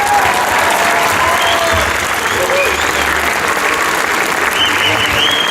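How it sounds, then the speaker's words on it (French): An audience gives a sustained round of applause to the instructors on stage at a French thank-you ceremony; dense, steady clapping fills the whole stretch at an even loudness, with crowd murmur blended in. "Donc je vous demande de les applaudir encore une fois."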